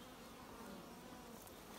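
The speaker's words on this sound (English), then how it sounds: "I can see bees going in" A dense, faint buzzing of many bees flying in and out of a hive in a tree stump hums steadily, a soft swarm drone with no voices.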